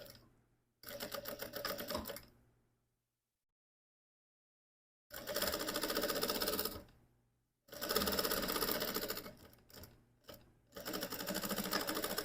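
Sewing machine stitching a zipper into a lined piece of fabric, close rapid needle chatter in four bursts separated by silent pauses, the last few runs short and choppy.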